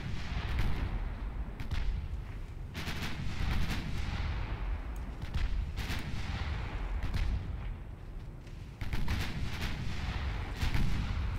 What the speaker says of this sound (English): Six-inch guns firing two now.